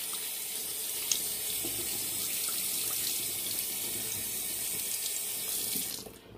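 A bathroom sink tap runs steadily as someone rinses off after a shave, a continuous close hiss of flowing water with a small splash early on, no voices, cutting off at the end.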